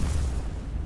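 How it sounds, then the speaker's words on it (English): A massive secondary explosion aboard a warship in the naval combat game War On the Sea, heard as a loud, sustained low rumbling boom that fills the whole moment with no voices over it. "Massive secondary explosion"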